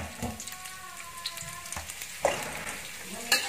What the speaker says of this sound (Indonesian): Kita tumis sampai harum ya bawang putihnya